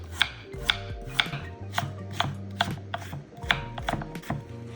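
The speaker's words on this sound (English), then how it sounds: "Finally, shred the carrot." A carrot is shredded or cut in even, rhythmic strokes, about two per second, each one a crisp close scrape-chop against a board over a low hum.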